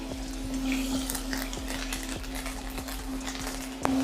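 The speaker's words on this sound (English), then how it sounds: "Now to this pan, I'm gonna add a couple knobs of butter." Knobs of butter and a sprig of thyme sizzle in a pan alongside scallops, with a close, even frying hiss, a few light utensil ticks and a sharper clink just before the end.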